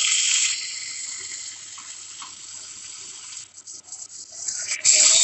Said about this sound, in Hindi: मैं इसमें ट्रांसफर कर रही हूँ पानी।